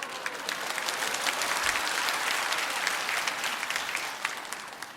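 A church congregation at a Sunday service claps together in a dense, continuous roar of applause, loud and even throughout, with no voices on top.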